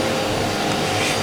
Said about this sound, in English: That is a lawnmower.